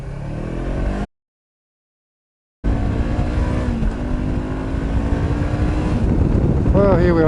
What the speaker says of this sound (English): here we are at motorway speed. A lot of wind buffeting.